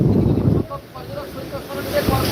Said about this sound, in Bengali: ব্যাপক পরিমাণে চলছে বাতাস দীঘার সৈকতে আর এদিকে দেখতে পাবেন সমুদ্র বেশ পরিমাণে রয়েছে উত্তাল